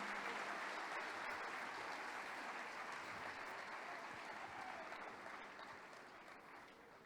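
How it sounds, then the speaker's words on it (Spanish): A church congregation applauds during a worship service, a broad, steady wash of clapping from many people that is fairly distant and fades gradually toward the end. "El aplauso al Señor que vive y reina para siempre."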